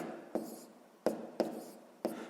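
Pen writing on paper during a sixth-grade math exercise, four short distinct scratchy strokes spaced irregularly, close and quiet, with no talking.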